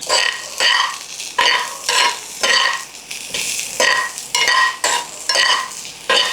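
Ivy gourd and green chillies frying in a pan as they are stirred together, a loud rhythmic series of scraping, rattling strokes with sizzling between them, close up with no talking.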